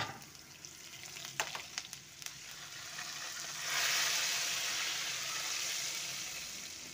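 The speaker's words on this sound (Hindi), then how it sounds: "इसको हम जब तक फ्राई करेंगे जब तक इसमें कलर आ जाए" Red chillies frying in hot oil for a dhaba-style dal tadka, starting with a few sharp clinks and taps before a steady crackling sizzle swells and holds.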